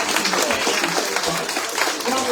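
An audience at a live community coffee-and-conversation gathering at a Pride Center applauds. Steady, dense clapping fills the room at close range, with voices talking over it.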